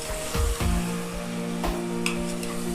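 Chicken sizzles and fries in a pan for curry, with a steady crackling hiss and a few louder clatters and stirs near the start, all close up and with no talking.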